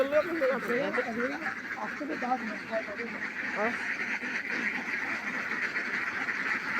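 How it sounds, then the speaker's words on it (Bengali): Ducks quack at a duck farm in rural Kushtia, their calls blending into a dense, fairly close chorus while a person talks over them. "আমরা একটা হাঁসের খামারে আসলাম"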